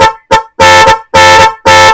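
A newly wired car horn honks in five short loud blasts, the first two brief and the last three longer, close and alone with no talk.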